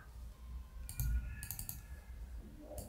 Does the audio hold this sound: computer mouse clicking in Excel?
yes